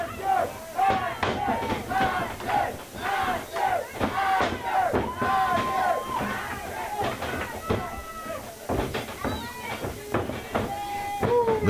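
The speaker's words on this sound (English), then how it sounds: "Crowd getting behind the champs." A wrestling crowd at a Just For Laughs tag team title match cheers and chants in rhythmic bursts for the champions, loud and continuous, with shouts rising over the din.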